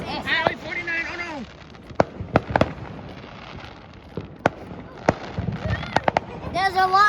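Fourth of July fireworks go off at 4th Street in Chesterton, Indiana, as scattered sharp pops and cracks at varying distances, with excited voices talking and exclaiming over them.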